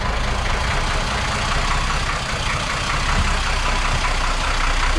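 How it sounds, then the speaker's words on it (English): Port engine of a Princess 33 motor boat running at a steady idle just after starting, a loud continuous low rumble with broadband noise that holds evenly throughout, with no talking. "There we go, that's the port engine started."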